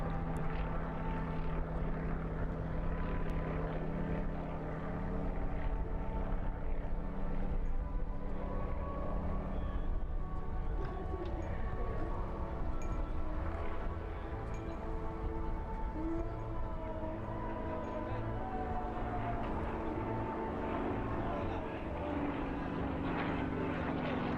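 Steady, loud engine drone of an aircraft flying at an air display in Essex, continuous and fairly close throughout with no talk.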